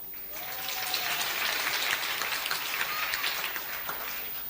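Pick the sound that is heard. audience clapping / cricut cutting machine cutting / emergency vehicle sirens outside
audience clapping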